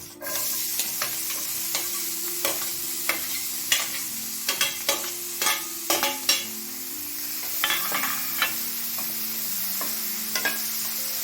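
Crushed ginger and garlic, onion, curry leaves and tomato sauté in oil with a steady sizzle, broken by frequent scraping stirs and clinks of a spoon against the pan.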